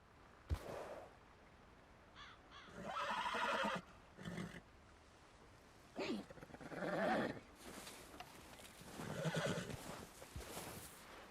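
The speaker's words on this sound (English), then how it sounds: "This is the rarest horse in the game." A White Arabian horse in Red Dead Redemption 2 gives several whinnies and snorts in separate bursts, close and clear, with quiet gaps and soft ambient game sound between them.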